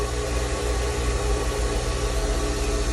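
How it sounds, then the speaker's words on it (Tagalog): A repaired jet pump motor runs with a steady, dense hum and broadband whir, constant and close, with no talking. "Ang ganda naman yung tunog ng motor."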